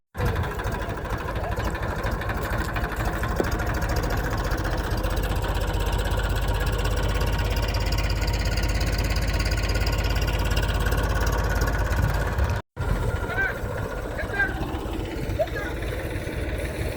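A tractor engine chugs loudly and continuously at a steady mid-pitched idle on a farm while pulling a water pump motor out of a well, with a brief dropout near the end and voices talking over it.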